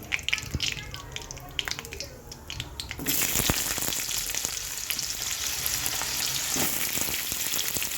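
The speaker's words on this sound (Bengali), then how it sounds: "তেল দিয়েছি শুকনো লঙ্কা পাঁচ ফোড়ন আর দিয়েছি তেজপাতা দিয়ে লাউ আর ডুমো ডুমো করে লাউ কাটা আলু কাটা" Diced bottle gourd and potato frying in oil with dried red chillies, panch phoron and bay leaves for a vegetarian puja dish; a quieter sizzle with light clinks jumps into a loud, dense crackle partway through and stays steady.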